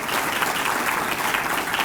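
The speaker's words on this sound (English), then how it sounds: "Give her a round of applause." Steady audience applause fills a town inaugural event, a dense, even patter of many hands clapping at moderate volume throughout, with no voices rising above it.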